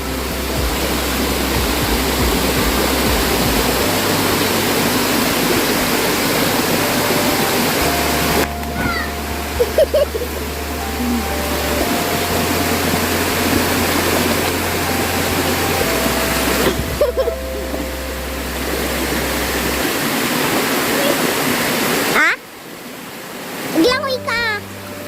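The waterfall at Busay Falls gives a steady, loud roar of rushing water that continues throughout, with voices talking over it at times.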